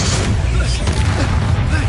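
A Bombarda blasting spell goes off in a Harry Potter video game, heard as a loud, dense, continuous rumbling burst with crackling texture that fills the whole moment.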